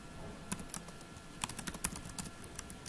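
Computer keys clatter in quick bursts of light, close taps as a username and password are typed on a keyboard, with short pauses between clusters of keystrokes.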